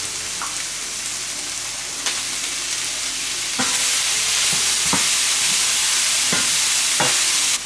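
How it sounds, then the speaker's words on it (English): Onions hit a frying pan of browned beef, a steady loud sizzle that swells as more go in, with occasional clatter and scraping of a utensil against the pan. "Now that we got some nice browning on the beef, I'm gonna add the onions."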